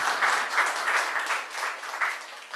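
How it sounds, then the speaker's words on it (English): An audience at a forum on free trade agreements and agriculture applauds a guest speaker with steady, dense clapping that swells and eases slightly over a couple of seconds, with no talking. "Let's give Mr. Salim a big round of applause."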